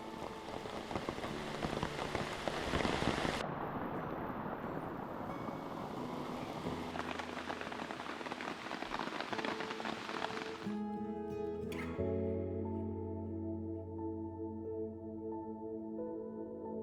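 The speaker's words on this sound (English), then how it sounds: "we retreated back to our rain flies and enjoyed our afternoon in the rain" Steady rain pours down at a backcountry lakeside campsite on Fontana Lake, North Carolina, a dense close patter drumming on a rain fly that stays loud and continuous, with no voices.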